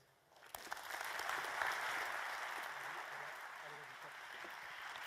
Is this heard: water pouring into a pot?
no